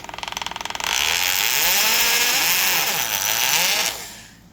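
A Bosch Scintilla 1194 two-speed hammer drill starts with a rapid clattering hammer action, then runs at full speed in hammer mode with a loud, buzzing mechanical whine and rattle before spinning down, close up and without talk.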